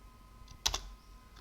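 A few quiet keystrokes on a computer keyboard, a short cluster of light clicks, close but soft against a faint hum.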